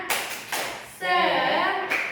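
A teacher demonstrates the 'tepuk semangat' class clapping chant, with a few sharp claps in rhythm alongside her chanting voice in a classroom.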